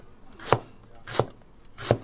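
A knife chops through ginger slices on a board in three evenly spaced, crisp, close thuds with brief quiet gaps between them.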